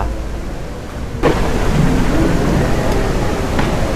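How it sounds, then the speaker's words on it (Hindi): Steady heavy rain with a sudden loud thunder crack partway through, then continued dense downpour. "बहुत बारिश हो रही है"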